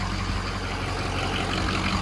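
A Ford 6.0 diesel truck engine with a ruptured oil cooler idles close by, a steady low rumble with an even throb and no other sounds.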